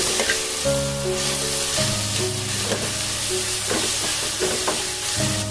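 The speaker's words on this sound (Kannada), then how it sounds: "ಫ್ರೈ ಮಾಡ್ಕೊಳ್ಳಿ." Two medium chopped tomatoes fry with onions in a pan for prawn pulimunchi, giving a loud continuous sizzle with occasional stirring scrapes over a steady tonal hum.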